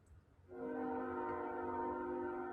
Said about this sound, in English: we do have our first train coming up. There it is.